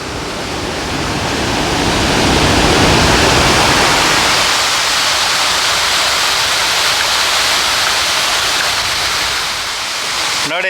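The Dudhsagar waterfall plunges down in summer with reduced flow. It makes a loud, continuous broadband rush that swells and then holds steady, with no clear talking over it.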